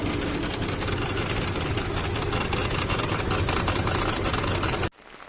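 Engine running under the hood of an Infiniti QX56 with a suspected knocking fault, a steady loud mechanical clatter with fine rapid ticking throughout, cutting off abruptly near the end.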